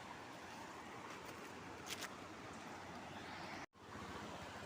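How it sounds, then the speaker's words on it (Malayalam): A waterfall beside a flowing river on a forest trail produces a faint, constant broadband rush of falling and running water, with a brief dropout near the end. "ഒരു പുഴ ഒഴുകി പോകുന്നതിൻ്റെ സൈഡിലുള്ള നല്ലൊരു വെള്ളച്ചാട്ടം."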